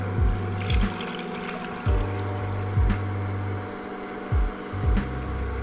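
Vetiver (khus) root water is poured from a vessel back into a wok, a steady liquid trickle and splash under a low hum, with several brief louder thumps or clanks spaced across it; no one talks.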